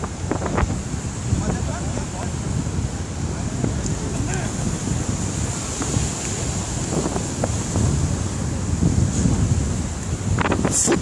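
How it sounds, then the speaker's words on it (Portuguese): Strong wind gusts over a beach during a footvolley match, a constant roaring rush with surf-like hiss, while players call out and talk throughout. "Olha o vento."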